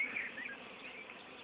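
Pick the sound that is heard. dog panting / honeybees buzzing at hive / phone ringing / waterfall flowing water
honeybees buzzing at hive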